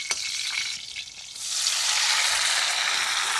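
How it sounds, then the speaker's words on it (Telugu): Ginger and tomato frying in a pan, a steady bright sizzle that dips briefly and then swells louder and fuller, close by with no talking. "అల్లము టమాటా వేసి బాగా వాడ్చుకుందాం"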